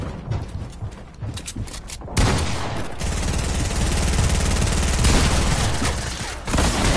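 Rocket launcher fire in Fortnite: after a quieter stretch, a loud, sustained burst of blasts and crackling booms erupts and rolls on for several seconds, close and harsh.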